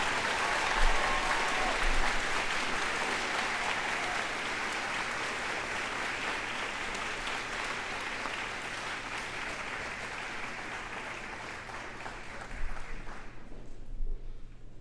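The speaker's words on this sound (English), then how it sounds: "a round of applause for the 3-5 block" Audience at a junior high school moving-on ceremony breaking into sustained applause, many hands clapping steadily with a few louder bursts before it fades out near the end.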